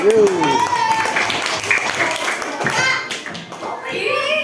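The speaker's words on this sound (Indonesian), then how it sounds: "Tepuk tangan buat mereka berdua." Hands clapping in a small group in a fifth-grade primary school classroom, brisk applause mixed with children's voices talking over it.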